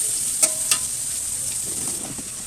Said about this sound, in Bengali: তারপর প্রথমে পেঁয়াজ ভেজে নিচ্ছি